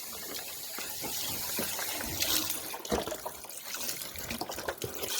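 Chicken broth, 32 ounces of it, pours into a turkey brine, a steady liquid splashing and gurgling heard up close without talk.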